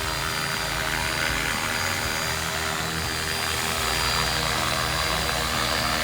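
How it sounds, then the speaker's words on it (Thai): A radio-controlled UH-1 Army model helicopter, 450 size, runs with a steady loud whine and rotor buzz, close by and constant without pauses. "คือถ้าจะเอาฮอขึ้นอ่ะ เราก็เร่งไปขีดหนึ่งอ่ะครับ"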